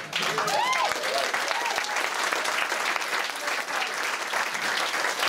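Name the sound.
audience clapping at protest meeting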